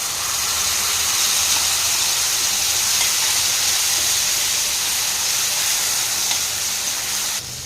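Tomato sautéing in hot oil in a pan, a steady, loud sizzling hiss that holds evenly, then drops off sharply right at the end.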